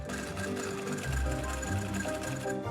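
A sewing machine runs steadily, stitching through a double layer of very thick upholstery fabric for an armchair, a continuous close mechanical whir with rapid repetitive needle ticks.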